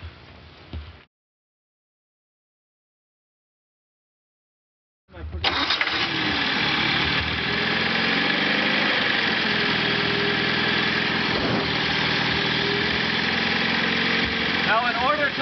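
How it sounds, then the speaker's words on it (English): A carbureted engine starts and then idles steadily on fuel vapors drawn from the float bowl, a close, even mechanical drone with faint rattles that runs on after a brief pause. "in order to idle the engine on the vapors from the carburetor enhancer"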